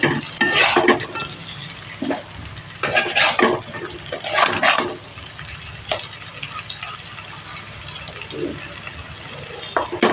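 Intermittent scraping bursts as new winter potatoes are stirred in a frying pan over a gas flame for a Bengali potato fry, close and fairly loud, separated by quieter stretches of sizzling.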